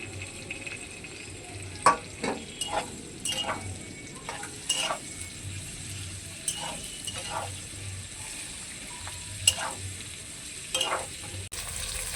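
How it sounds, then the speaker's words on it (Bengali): Chopped onion, capsicum and four slit green chillies fry with a little salt in a pan, a soft continuous sizzle broken by repeated scraping clicks of stirring, no one talking. "সামান্য পরিমাণে একটু লবণ দিয়ে দিচ্ছি পেঁয়াজ আর ক্যাপসিকাম ভালো করে আর একটু ভেজে নেব"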